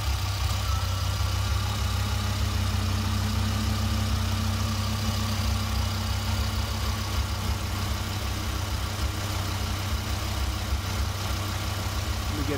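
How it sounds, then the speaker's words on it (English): A 1994 Dodge Viper engine idles steadily and smoothly, a constant low rumble with no talking. "This is the video of the engine running totally smooth."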